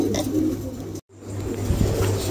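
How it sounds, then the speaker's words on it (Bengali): A pair of pigeons offered for sale coo up close with soft, low repeated calls and a brief dropout midway, with no talking. "মাশাআল্লাহ দেখার মতন একজোড়া কবুতর"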